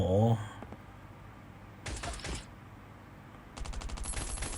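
Two bursts of rapid automatic gunfire from the survival video game Last Island of Survival, each lasting about half a second, coming after a short spoken word at the start, with a quiet gap between them.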